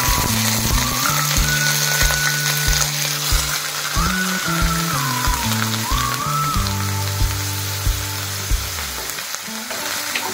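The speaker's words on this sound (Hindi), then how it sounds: "दो से तीन मिनट मैंने ऑनियन को फ्राई कर लिया है।" Steady sizzling and crackling of onions frying in hot oil for soya kofta curry fills the whole clip, with a constant loud hiss and no voices.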